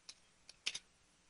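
A few quiet keys clicking on a wireless keyboard with low batteries, one isolated tap followed by a quick cluster of three, close and faint in a silent room.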